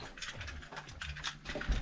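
Wrench ratcheting a reverse-threaded nut off a motorcycle engine during a cylinder and piston job, a quick series of close, dry mechanical clicks lasting under two seconds, with no talking.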